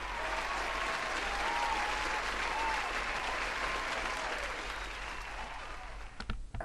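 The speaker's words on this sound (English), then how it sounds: "Let's give everyone a round of applause." Sustained audience applause fills the whole stretch at an even, dense level, with a few sharper claps standing out near the end as it begins to thin.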